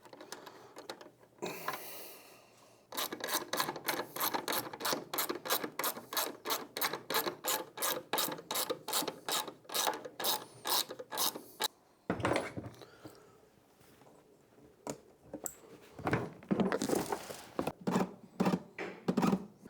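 Torx 25 screws on a carbon fiber tail light housing of a 2025 Road Glide are turned by hand, giving a long run of rapid, even ratcheting clicks with short pauses between bursts.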